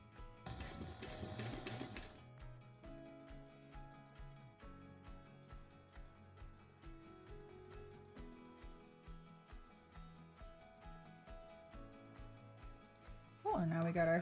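A home sewing machine stitches a seam on a fabric sling at a longer stitch length, a steady mechanical whir running close and fairly quiet for most of the stretch, with short bursts at the start and end.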